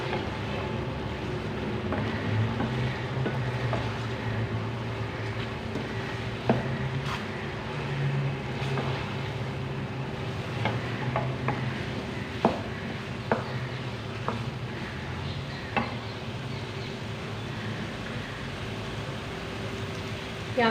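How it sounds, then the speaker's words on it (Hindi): Masala for a potato and egg curry sizzles and fries in a pan, a steady close hiss broken by occasional sharp clicks and scrapes of stirring, with no voices. "अच्छे से मिक्स कर लेंगे और 2 मिनट तक भूनेंगे।"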